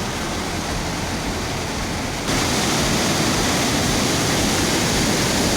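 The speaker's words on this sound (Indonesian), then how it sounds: "ini dia sobat ya, Curug Dengdeng. Wih, deras sekali ya sobat ya." Heavy, fast-flowing water roars steadily at the Curug Dengdeng waterfall. The broad, dense rush is loud and continuous, and it swells noticeably partway through with no voices over it.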